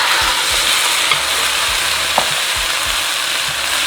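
Shrimp sizzle in sesame oil in a hot wok on a burner, a steady close frying hiss with faint scraping stirs underneath, no voices.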